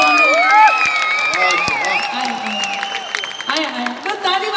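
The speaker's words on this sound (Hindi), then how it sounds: "ताली वाली बजाते रहिए, सीटियां रहने दीजिए।" An audience at a Hindi kavi sammelan poetry gathering claps and cheers, with whoops and shouted voices rising over a steady bed of crowd noise throughout.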